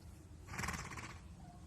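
A mare gives a short, quavering whinny at moderate distance, a brief pulsing neigh that rises out of quiet background noise.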